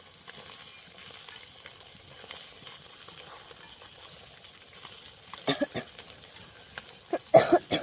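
Pangas fish sizzles in hot oil in a home kitchen with a constant low crackle, then louder spattering bursts as the fish is flipped near the end.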